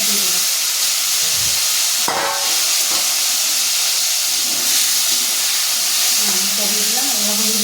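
Potatoes dropped into hot oil tempered with cumin seeds, then turmeric added, give a steady broadband sizzle and hiss that runs throughout, with a brief louder burst as they hit the pan and faint voices in the background.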